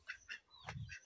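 Ducks kept on a rural homestead give a few short, faint honking quacks in quick succession, heard from some distance with no one speaking.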